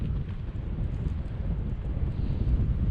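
Strong gusting wind on an exposed Lake District hiking trail buffets the microphone in a loud, continuous low roar with uneven surges.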